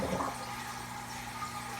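Water rushes steadily through an aquarium siphon during a tank water change, a continuous close gurgling wash that starts with a brief splash and then settles into an even flow, no speech.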